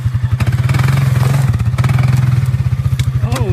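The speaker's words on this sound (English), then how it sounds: "I bet I can drive through this whole thing on the four-wheeler" Four-wheeler ATV engine pulsing with a steady, rapid low throb while driving through a pond, loud and close, with clattering thumps and a brief rising whine near the end.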